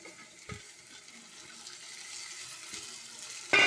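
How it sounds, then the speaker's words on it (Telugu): Tomatoes go into a hot pan for egg curry, giving a soft, steady sizzling hiss that swells into a louder, sharper burst of frying near the end. "ఇప్పుడు టమాటాలు వేసేద్దాం"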